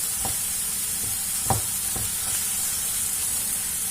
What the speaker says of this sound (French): Et on va laisser mijoter tout ça, que ça cuit bien comme il faut.